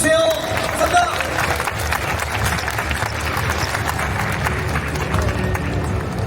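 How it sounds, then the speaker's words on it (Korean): Audience at a main-stage event at the 2025 Play X4 game show in Seoul gives broad, sustained applause and crowd noise throughout, loud and steady, with babble mixed in. "큰 박수 보내주세요."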